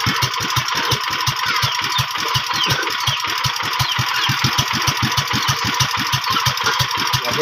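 A new engine idles close by with a steady, even thumping pulse of several beats per second. The low chug holds the same pace from start to finish with no talking.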